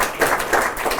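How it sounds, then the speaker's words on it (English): Audience at a summer practicum presentation event clapping for the presenters, a dense, steady patter of hands with a few swells, fairly close and alone without talk. "So give yourselves a big round of applause."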